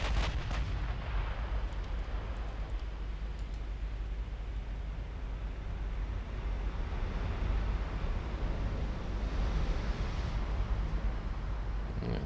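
Six-inch naval guns fire in Ultimate Admiral Dreadnoughts, a steady loud rumble of heavy cannon booms and rolling detonations that blend into a continuous low roar with no voices.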